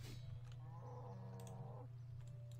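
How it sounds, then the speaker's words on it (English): A cow in the RuneScape video game lets out a single harmonic moo lasting about a second over a steady low hum, with faint clicks around it. "Aggro this cow as well."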